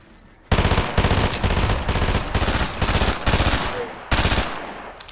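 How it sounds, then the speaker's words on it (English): Rapid automatic gunfire in Fortnite: sustained loud bursts of close shots in several runs, with brief gaps between bursts and no talk. "They shooting from the other side."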